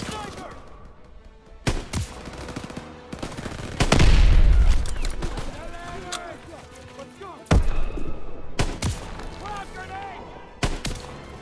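Rifle fire in the World War II shooter Call of Duty: WWII rings out in loud separate cracks and a rumbling blast, mixed with shouted voices and battle noise.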